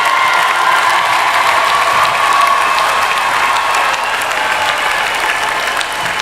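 Graduation ceremony audience applauding the graduates' families, a dense, loud, sustained clapping from a large crowd with light cheering mixed in, steady throughout.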